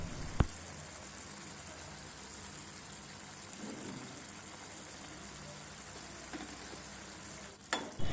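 Small rohu fingerlings simmer in a spiced Bengali fish-curry gravy, a faint, steady bubbling hiss with a soft stirring knock near the start and a brief clatter at the end.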